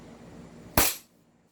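A single sharp shot from a fully upgraded Staccato 2011 airsoft pistol, loud and close, then a quick decay to quiet.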